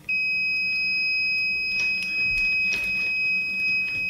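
Multimeter giving a steady continuity beep on a cable being checked during a Lego universal motor set repair, a clear continuous electronic tone held through the whole span, close and loud, with light handling noise.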